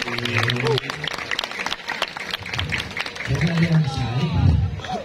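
An audience at a Calonarang performance at Pura Samuan Tiga in Gianyar, Bali, claps for the performers, the applause mixed with lively crowd chatter and nearby voices.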